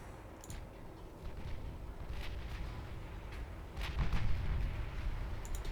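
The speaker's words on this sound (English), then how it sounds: "we're firing torpedoes at it as well" Warship combat in the naval game Ultimate Admiral Dreadnoughts while torpedoes are launched, with a low rumbling battle bed broken by several booming gun blasts and distant explosions, heaviest toward the end.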